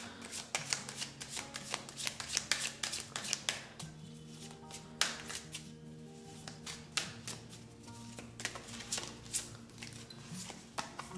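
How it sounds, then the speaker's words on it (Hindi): Tarot cards being pulled and shuffled by hand for a reading, a run of quick crisp riffles and slaps with brief pauses between bursts, close and fairly quiet. "Let's pull out some more cards."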